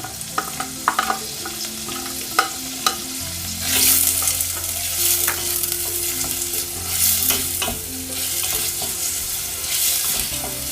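Chopped onions frying in oil with bay leaf, cinnamon, cardamom and cumin for chickpea bhuna, a continuous sizzle with repeated close stirring scrapes and clinks of a utensil against the pan.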